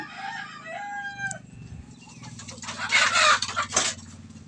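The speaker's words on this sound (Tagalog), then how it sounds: "maiingay ng aking mga manok guys. Sobrang ingay na." Chickens cluck and squawk close by, with a rooster-like crow rising over them; a busy, noisy burst of fowl calls with a low hum underneath.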